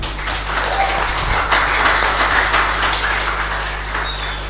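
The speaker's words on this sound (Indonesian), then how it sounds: "Kita beri tepuk tangan untuk mereka semua." Audience applause greeting five finalists at a school mathematics olympiad final, a broad sustained wash of clapping from a large crowd with a steady low hum underneath, continuous for the whole stretch.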